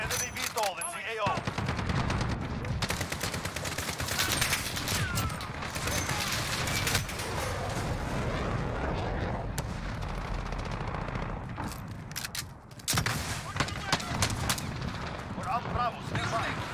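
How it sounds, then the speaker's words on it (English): Allied cluster strike explosions in a shooter video game, a long barrage of blasts and heavy gunfire rolling on without pause, loud and dense, with voices talking over the din. "Allied cluster strike is coming."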